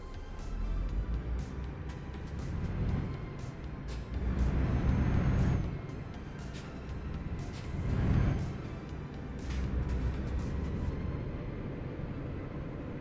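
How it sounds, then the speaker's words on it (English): Truck engine in Euro Truck Simulator 2 droning at low volume, swelling twice as it revs and accelerates, then settling back to a steady hum with faint clicks over it. "Let me get truck sounds."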